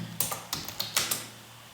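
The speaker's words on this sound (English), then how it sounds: "Now you start typing the text now." A computer keyboard is tapped in a quick, uneven burst of about six close, crisp keystrokes, followed by a quiet tail. No voices.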